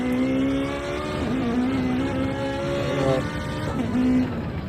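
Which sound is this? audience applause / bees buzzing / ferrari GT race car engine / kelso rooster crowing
ferrari GT race car engine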